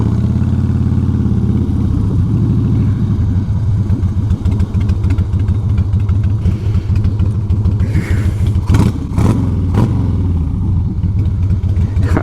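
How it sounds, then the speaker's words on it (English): Harley-Davidson motorcycle at a HOG chapter bike night, its V-twin engine loud and close, rumbling at idle then revved in several sharp bursts, with no talk over it. "That guy was asking me to rev the engine"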